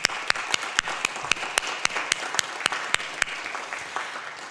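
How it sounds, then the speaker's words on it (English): Audience clapping at a hospital foundation's year-in-review event in Grey Highlands: a few distinct, evenly spaced sharp claps stand out over a softer bed of scattered clapping, fairly close and lasting several seconds. "I would like us all to clap, and it's for you"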